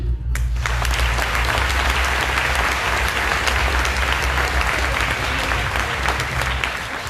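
Loud, sustained audience applause fills a hall at a festival tribute evening for volunteers, steady dense clapping that starts abruptly and carries on alone for several seconds.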